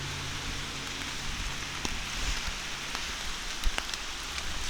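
Steady rain hisses down on a forest at Loyalsock State Forest in Pennsylvania, a dense even wash of drops with occasional nearer taps and drips, with no voices.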